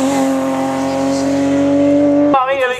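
BMW race car climbing the Gavray hill climb course, its engine holding a steady high-pitched drone before shifting abruptly near the end, loud and close.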